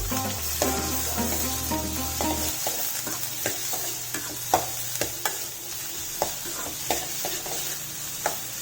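Onions frying and being stirred in a pan while cooking mushroom gravy, a steady close sizzle with scraping stir strokes and small clinks throughout, no talking.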